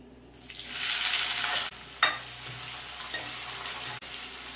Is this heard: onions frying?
yes